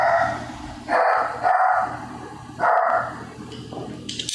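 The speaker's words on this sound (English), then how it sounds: "All the trick-or-treaters got my dog barking off the hook." A pet dog barks at trick-or-treaters on Halloween in a few loud, separate bursts, with quieter stretches between them.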